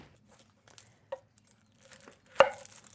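Onion being chopped while cooking a Pont l'Évêque cheese recipe: a few sparse, separate knife chops on a board, one faint early cut and one sharper, louder chop near the end, in a quiet kitchen.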